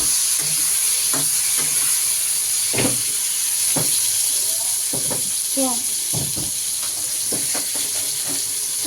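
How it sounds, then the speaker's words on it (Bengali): Ridge gourd frying in a pan under a steady loud sizzle and hiss, with scattered scraping stir strokes and clinks from a utensil close by, and some background speech. "ভাজবে ঝিঙেটা"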